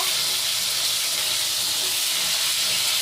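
Cauliflower frying in hot oil at a sweet shop gives a loud, steady, dense sizzle and hiss that runs unbroken and close, with no voices over it.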